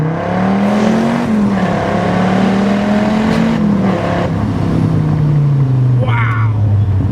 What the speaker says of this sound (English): this is what a supercharged Viper feels like